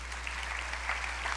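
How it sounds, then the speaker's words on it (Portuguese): Church congregation applauding during a Portuguese-language service, a soft, steady wash of clapping heard at a distance, fairly faint and continuous with no voices over it. "Você pode aplaudir ao Senhor?"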